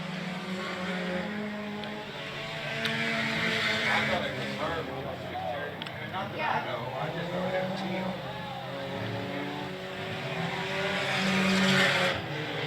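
Sport compact race cars roar around a speedway oval in a heat race, engines droning and shifting pitch as they pass, with an announcer talking over the steady track noise.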